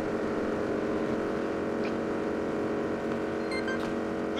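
A video game motorcycle engine drones and hums continuously at a constant pitch, loud and close, with a couple of faint higher blips.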